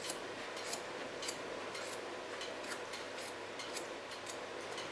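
Scissors snip through hair during a long-to-short haircut, giving a steady series of crisp, close metallic cuts at an even rhythm with no talking.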